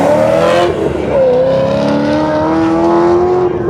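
A 1969 Pontiac GTO engine roars hard during an autocross run, loud and close, revving up through the gears with rising pitch and a shift partway through, with faint tire noise.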